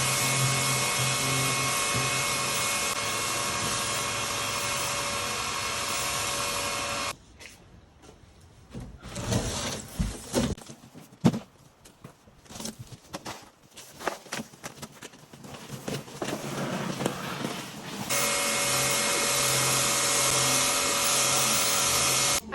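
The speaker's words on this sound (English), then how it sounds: "I'm using an electric pressure washer right now" An electric pressure washer motor drones loud and steady, cuts out into quieter spraying and clatter for several seconds, then starts droning again.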